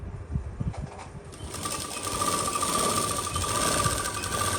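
A sewing machine runs a long continuous seam on a Burberry lined suit, starting with a few uneven bursts and then settling into a steady, close, whirring stitch.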